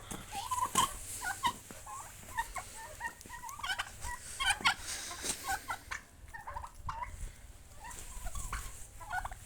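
Turkeys gobble repeatedly in rapid, warbling bursts, several birds calling over one another at moderate distance with scattered clucks.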